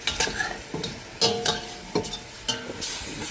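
Pork fries in its own fat in a large saute pan with no oil added. Close, rhythmic scraping strokes come about every half second over a constant sizzle.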